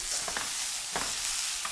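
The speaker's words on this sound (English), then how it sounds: "While it's sizzling with fat like that" Steak sizzles loudly in hot fat in a pan with garlic and rosemary, a constant crackling hiss with a few small pops and spatters.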